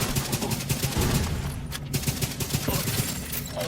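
Rapid automatic gunfire from a turret in a shooter video game, a dense continuous fusillade of loud, close shots with sharp bursts running throughout.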